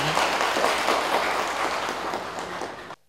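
A Buddhist audience at a dharma talk breaks into loud, dense applause for about three seconds, and it stops abruptly.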